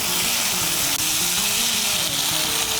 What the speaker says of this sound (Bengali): আলুগুলোকে মিশিয়ে নেব, মশলার সঙ্গে মিশিয়ে নিয়ে একটু কষিয়ে নেব।